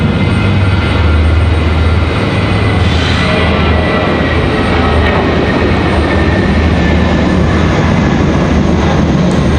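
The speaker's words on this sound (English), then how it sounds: "Again, that A319 out of here, headed to Miami." A loud, sustained jet engine roar from an Airbus A319 taking off at Raleigh-Durham airport, a powerful continuous rumble and hiss that stays close and steady throughout.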